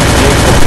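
A sniper rifle fires in the Free Fire video game, a single loud, harsh blast that fills the whole brief moment.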